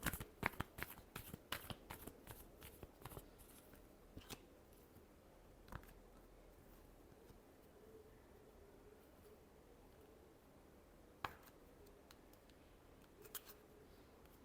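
Tarot cards being shuffled, a quick burst of riffling snaps at the start, then sparse soft flicks and a few isolated taps over a quiet background.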